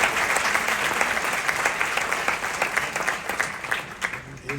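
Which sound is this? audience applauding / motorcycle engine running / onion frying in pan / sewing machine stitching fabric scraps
audience applauding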